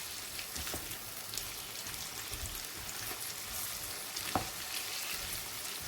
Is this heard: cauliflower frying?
yes